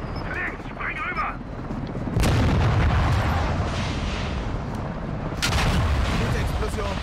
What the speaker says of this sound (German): Gute Explosion